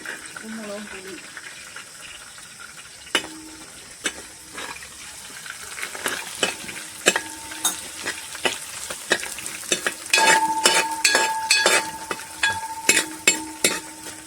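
Shallots frying in a pan for a Kumarakom-style fish head curry, with a loud close sizzle and a run of rapid sharp spatula knocks and scrapes against the pan, under a voice talking at times.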